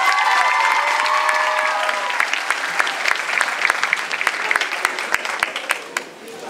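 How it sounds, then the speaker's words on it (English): Applause at an Afrochella fashion show starts as a full burst of crowd clapping, with some voices and cheering mixed in, then thins to scattered individual claps before fading out. "Before he answers, one major clap."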